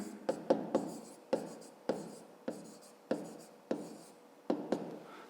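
A pen writes on paper in a quiet room during math homework, making about a dozen short, crisp scratching strokes at an irregular pace, close and alone.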